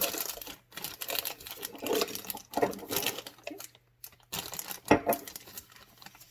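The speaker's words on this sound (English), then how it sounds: "you'll put your bag with the tip going down in the glass and fold it over" A plastic piping bag, tip down in a glass, is folded over its rim, giving close, intermittent crinkling and rustling bursts with short pauses between handling movements.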